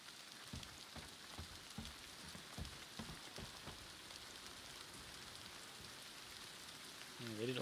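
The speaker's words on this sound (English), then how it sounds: "Oh, it's raining." Steady rain falls in the video game Days Gone, a soft, even patter on surfaces that carries on without a break and sits fairly quietly in the background.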